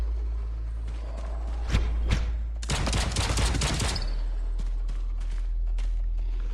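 Gunfire erupts in the VR shooter Into Black, a brief thump followed by a dense burst of rapid shots lasting just over a second, then quieter shuffling and faint clicks; no one speaks.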